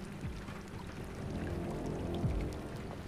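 Steady rain falls in Detroit: Become Human, a continuous soft hiss with faint low rumbles and occasional swells, with no speech.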